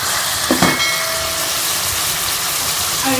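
Chicken pieces frying in a pan for a jalfrezi, a steady loud sizzle and hiss with a few brief clinks and scrapes over it.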